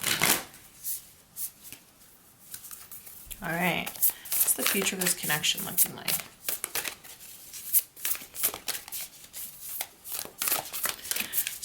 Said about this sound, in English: Maybe I need to shuffle again.